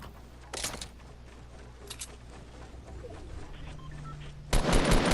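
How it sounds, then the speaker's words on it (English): Gunfire in Fortnite: a couple of short, loud shots early on, then another hard burst at the end, with quieter game ambience between them. "I start trying to get some shots off."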